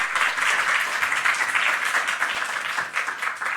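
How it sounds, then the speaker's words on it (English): Audience applause fills a lecture hall after a university colloquium talk, a dense, steady wash of clapping from many hands lasting several seconds. "Let's give her a round of applause."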